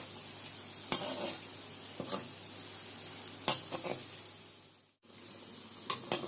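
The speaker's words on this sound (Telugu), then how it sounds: "ఈ విధంగా బాండీకి సరిపడా వేసుకొని 2 వైపులా తిప్పుకుంటూ గోల్డెన్ కలర్ వచ్చే వరకు వేయించుకుందాము." Semolina gulab jamun balls fry in oil in a kadai over medium flame, a continuous close sizzle broken by several sharp clinks and scrapes as they are turned.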